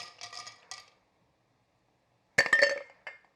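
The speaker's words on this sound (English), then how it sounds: "So, we're getting our ice." Ice cubes dropped into a mixing glass for a stirred cocktail at a board game bar, heard as two close, bright bursts of clinking separated by a silent pause.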